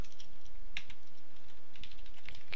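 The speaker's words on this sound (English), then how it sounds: "ordinary key press of D." Keys clatter on a computer keyboard at a moderate pace, a run of light close clicks with a few sharper taps standing out over a steady hum.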